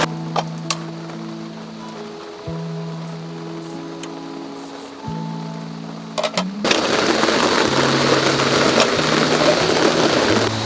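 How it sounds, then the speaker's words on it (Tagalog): Heavy monsoon rain pours down at a solo campsite, building from steady patter with a low idling engine hum to a loud, dense downpour that drowns everything after a few seconds. "enjoy na lang natin yung ulan"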